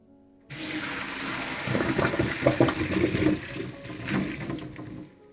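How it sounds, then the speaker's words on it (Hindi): After a short silence, hot water from boiled potatoes pours and splashes steadily into a sink for several seconds, close by, then tapers off. "अब इसका पानी मैं ड्रेन कर लूंगी।"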